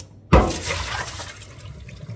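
Washed rice being drained for Japanese-style cooking, a sudden splash and rush of water falling into a sink, then a steady softer trickle of liquid draining away close by.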